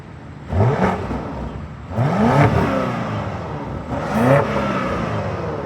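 The V8 of a 2026 BMW X5 M60i with a 48-volt mild hybrid system, revved three times while stationary and off the ground, each rise a quick vroom settling back to a steady idle.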